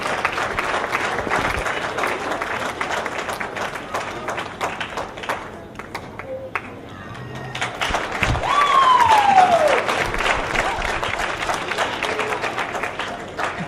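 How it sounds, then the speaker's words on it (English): Spectators at a 4-H/FFA swine show clap in a long round of applause, steady and moderately loud, easing briefly midway then picking back up, with faint background noise. "Give all these kids a big round of applause on a great day."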